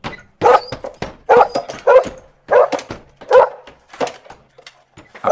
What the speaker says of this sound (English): A passerby heard the barking and stopped in surprise.